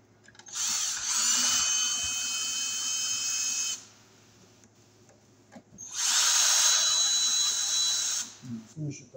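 Power drill driving screws into a light fixture box, two loud close bursts of high whining motor noise separated by a pause, with brief handling sounds at the end.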